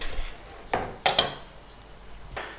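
A chopping board shifted aside on a kitchen counter while cooking beef curry, with a few short knocks and clinks of wood against dishes, sparse and close.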